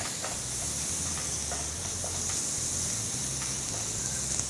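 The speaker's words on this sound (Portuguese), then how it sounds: "E aí agora a gente vai terminar de fazer a nossa fritura aqui." Bread slice frying in olive oil in a pan, a constant loud sizzle and hiss with faint crackles, heard up close with no talk.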